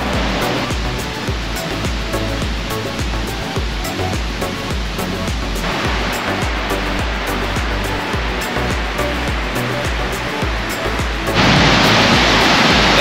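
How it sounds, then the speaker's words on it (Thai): Mae Ya waterfall in Chiang Mai, Thailand roars in a loud, steady rush of water that fills the whole clip and swells even stronger near the end, with no voices. "ได้ยินเสียงน้ำสนั่นวันไหวเลยครับยิ่งใหญ่อลังการมาก"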